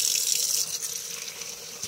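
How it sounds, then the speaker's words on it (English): Tap water runs steadily into a sterilizer cup, a soft hissing pour close by that keeps going without a break, with no voices. "I'm just going to fill it with water."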